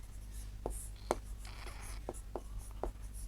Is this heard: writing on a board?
yes